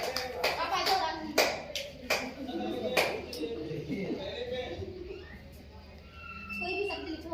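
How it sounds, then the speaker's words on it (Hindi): A small group claps in a short, scattered burst of sharp hand slaps near the start, and a voice begins talking as the clapping fades. "तालियां बजाओ संध्या के लिए।"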